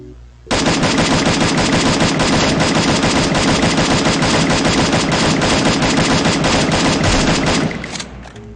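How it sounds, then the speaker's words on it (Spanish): A video-game M4A1 rifle fires full-auto, emptying its magazine into a mannequin in one loud, unbroken rapid burst lasting several seconds before cutting off. "le vaciamos todo el cargador de la arma al maniquí"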